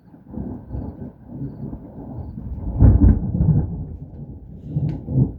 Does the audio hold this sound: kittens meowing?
no